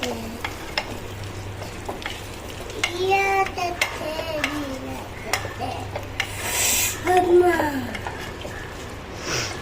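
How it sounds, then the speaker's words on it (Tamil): Masala being stirred and sautéed in a pan for vegetable biryani, with a steady scraping and stirring rasp over a soft sizzle, close by, while a person talks over it. "இந்த மசாலாவும் போட்டுட்டு நம்ம நல்லா வதக்கி விட்டுக்கலாம்."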